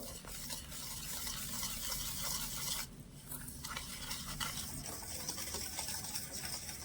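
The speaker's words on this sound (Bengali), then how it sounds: "এবারে হুইক্স দিয়ে ভালো করে মিশিয়ে নেব" A whisk beats a sugar mixture in a bowl for biscuit dough, a continuous scratchy stirring with brief pauses and shifts in rhythm, close and fairly quiet.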